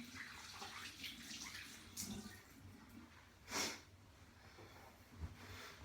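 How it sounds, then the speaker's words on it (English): Tap water runs into a bathroom sink while hands are washed beneath it, a faint splashing rush with a couple of louder splashes and sniffs, no talk. "I'm gonna wash my hands really quick."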